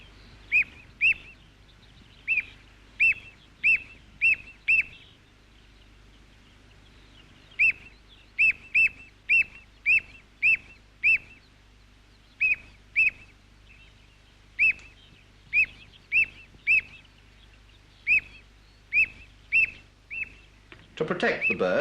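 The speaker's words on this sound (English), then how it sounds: "Take the shorebirds, little terns, and these ringed plovers." Little terns and ringed plovers call on a nesting beach, a long series of sharp, high, repeated piping notes arriving in quick clusters with short pauses between them.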